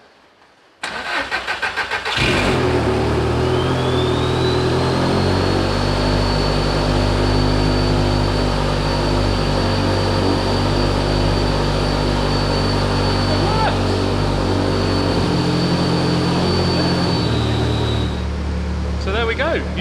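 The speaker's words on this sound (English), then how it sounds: "You just lean in, turn the key, and it starts and runs." An Audi A3 running an Ignitron ECU cranks briefly and fires up, then settles into a loud, steady idle close by, with a rising whine and a shift in engine note near the end.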